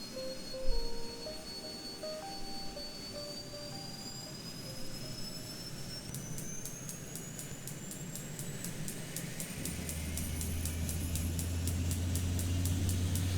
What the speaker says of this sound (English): you can really hear those 32-bit sounds coming as the turbine winds up